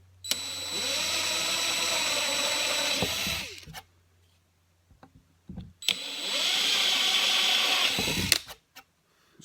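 A power drill pre-drills small locating holes into a wooden board for a workbench tool drawer, whining steadily for about three seconds, pausing amid brief clunks, then running again in a second sustained burst.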